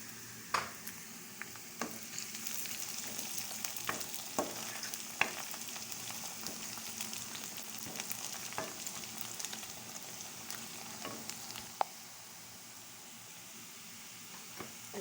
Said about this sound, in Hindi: अब हम इसमें लहसुन को शामिल करेंगे। लहसुन को हमने बारीक सा काट लिया है।